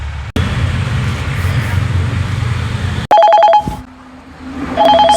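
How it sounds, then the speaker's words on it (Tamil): A mobile phone rings loudly with a repeating electronic tone, breaking in over a noisy roadside scene with traffic rumble from an auto-rickshaw stand. "சம்சாரம் ஃபோன் பண்ணுறாங்க."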